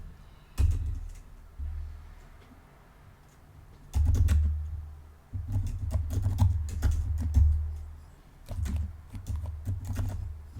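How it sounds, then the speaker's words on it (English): Typing on a computer keyboard, with clusters of close, crisp key clicks in uneven bursts and short pauses between them, no talking. "And then just type in the following."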